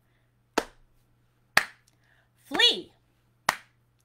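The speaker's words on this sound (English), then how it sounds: "I'm also going to jazz it up by doing a clapping pattern." Sharp single hand claps land about a second apart in a clapping pattern for a children's camping-themed song, with one sung word between them in a quiet room.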